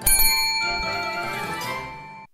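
A bright notification bell rings once with a sharp metallic ding, its clear ringing tones sustaining and slowly fading over about two seconds, with no voices.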